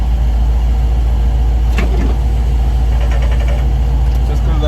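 Constant heavy road noise inside a moving car, a loud steady low rumble with faint rattles and clicks, no clear breaks.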